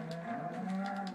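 A Minecraft cow gives a low, drawn-out moo in a sustained, fairly loud call that lasts about a second, with no talking over it.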